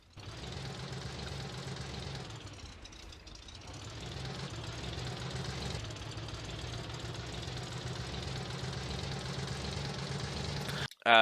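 A locomotive engine in a video game idles with a low, steady, knocking rumble, briefly dipping before being revved and holding a constant, loud drone to the end.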